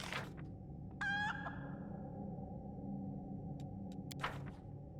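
A chicken in the Pathfinder: Wrath of the Righteous video game gives a short, bright squawking cluck, followed a few seconds later by a second brief call, over a steady low game ambience with no talking.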